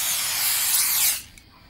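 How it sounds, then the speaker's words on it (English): A spray can fires at a rat in a convenience store game, one loud, close, continuous hiss lasting about a second before cutting off abruptly into near silence. "Show me your face so that I may spray it."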